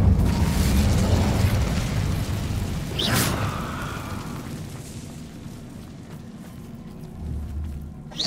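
An Incendio fire spell cast in Hogwarts Legacy: a heavy fiery burst and roaring whoosh, a sharp flare a few seconds in, then a fading crackling rumble with a low thud near the end.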